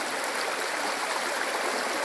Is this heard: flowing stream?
yes